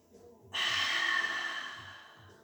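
One deep, breathy inhale during a breathing exercise, close to the microphone, starting abruptly and swelling steadily for about two seconds before easing off.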